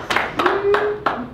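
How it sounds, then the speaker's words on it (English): Several people in a classroom clap together, about four sharp claps over a bit more than a second, close by, with a held voice tone running underneath. "I'm clapping for all of us."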